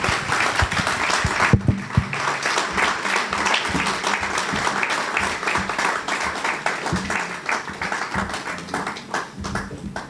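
Audience applause after a Constitution Day law lecture fills the room, a steady wash of many hands clapping that runs for about ten seconds without a break.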